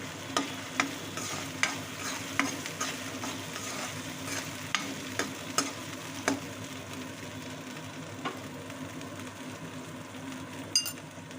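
Egg masala curry fries in a pan while a spoon stirs it, with a steady low sizzle under repeated sharp scraping clicks at an uneven rhythm, close by, no talking.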